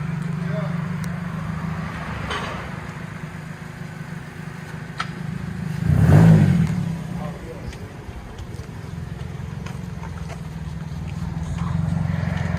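A 2008 Scion xD 1.8L with straight-pipe exhaust rumbles steadily with a loud, raspy exhaust, swelling into a brief rev midway before settling back to a throaty idle.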